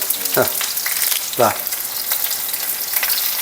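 Shallots and curry leaves fry in a hot pan with a steady bright sizzle, two sharp bursts of spattering crackle as the ingredients drop into the oil, with no talking.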